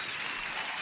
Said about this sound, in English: I have to give myself an applause for that.